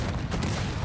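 Dense, rapid gunfire crackles continuously through a short burst of battle noise in the strategy video game Cossacks 3, loud and steady with no pauses.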